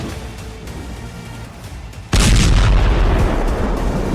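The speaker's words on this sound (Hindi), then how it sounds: "ये बम धमाका पुतिन के गेरबेरा लड़ाके का है।" A massive bomb blast from a Russian Geran drone strike on a Ukrainian city erupts suddenly halfway through, a loud, close boom that rolls on into a sustained roar and rumble after a quieter stretch of background noise.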